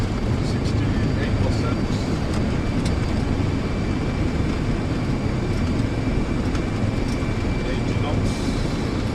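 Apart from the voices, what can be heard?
Boeing 767-300 airliner landing rollout with reverse thrust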